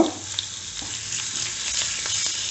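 Green chillies and asafoetida frying in hot oil give a steady close sizzle with faint crackles and stirring, no voices.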